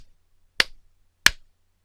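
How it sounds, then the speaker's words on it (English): Sharp, loud hand claps sound close to the mic, two crisp separated cracks with near silence around them. "clapping 3 times loudly near the mic"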